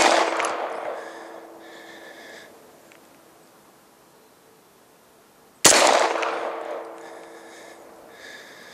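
A 500 S&W Magnum revolver fires at a target set in snow: two loud, sharp single shots several seconds apart, each with a long echoing decay outdoors.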